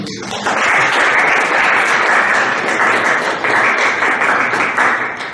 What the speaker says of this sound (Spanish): Les pido por favor que le brinden un fuerte aplauso.